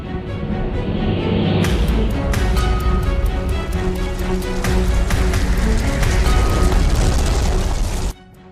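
A loud explosion-like roar from a nuclear bomb blast (Tsar Bomba), with a sudden sharp onset, followed by a sustained rumbling blast that ends abruptly.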